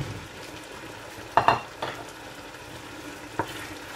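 Chicken keema with green chilies, bullet chilies and spring onions fries over high heat, a low steady sizzle with a few sharp utensil scrapes and clinks against the pan.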